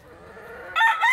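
A rooster crows among hens at a poultry yard, a sudden loud burst near the end after a quiet low stretch.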